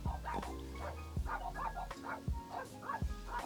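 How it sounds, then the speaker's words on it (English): A small, yappy dog barks near a parked car in a series of short, sharp yips spaced through the clip, moderately close, over a low steady background hum. "Please get your yappy dog away from my car."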